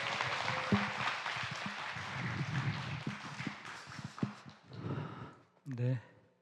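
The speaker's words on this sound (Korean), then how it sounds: "환영의 큰 박수로 함께 모시도록 하겠습니다" Congregation applause welcoming the preacher at a Sunday church service, a burst of clapping that fades out, with a voice speaking over it and afterwards.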